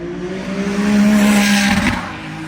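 A Ferrari 296 GT3 race car roars past nearby on a test track, the engine note swelling loud and then fading as it moves away.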